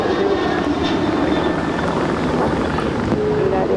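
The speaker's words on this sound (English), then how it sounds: "Here we have United Flight 1276 to Cancun on a 737-900ER." A United Boeing 737-900ER airliner roars loud and steady at LAX, a continuous broadband engine rush mixed with wind noise that holds at constant strength throughout.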